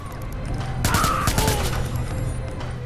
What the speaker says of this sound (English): I'd rather just gun you all down